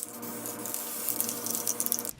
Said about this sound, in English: so we're gonna go spray paint that, and hopefully it turns out this cool chrome color